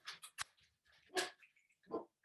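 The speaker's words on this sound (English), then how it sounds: "I gotta let the dogs in." Dogs let into a house during an online class make faint, scattered barks, whimpers and scuffling noises, a few short bursts spread unevenly across the moment with quiet gaps between them.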